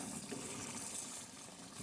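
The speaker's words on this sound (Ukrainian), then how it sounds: "Ну, Я додав вже води." Water being poured into a pot of bograch stew simmering over low heat, a steady rushing gush that holds evenly for under two seconds with no voices.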